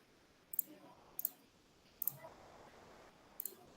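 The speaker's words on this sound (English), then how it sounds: "See here, while I click" Four sharp computer mouse clicks, each a quick double tick, spaced about a second apart over quiet room tone.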